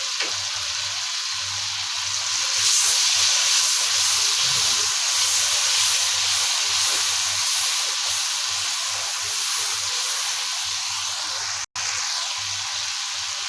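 Masala frying in a pan for baingan masala: a steady, close hiss and sizzle of spices in hot oil with a little water, continuous and fairly loud, broken by one brief dropout near the end.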